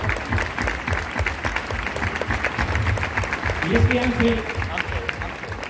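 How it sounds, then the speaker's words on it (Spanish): Applause from an audience at a farewell performance in Santander, a dense steady clapping that runs throughout while someone speaks over it. "Un aplauso para él."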